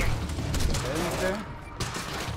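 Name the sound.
gunfire in Quantum Break video game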